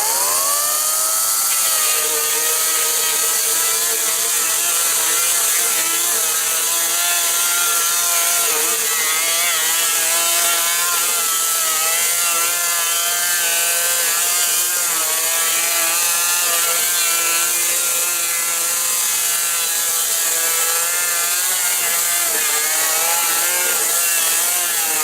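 An Ego 56-volt battery chainsaw, about four months old, cuts through wood with a loud, steady motor whine and chain buzz that runs continuously and close throughout, its pitch wavering slightly as it bites.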